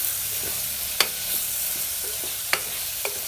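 Ginger garlic paste sautéing in a pan for green chilli mutton curry, a steady soft sizzle with a few sharp clicks of a stirring spoon against the pan.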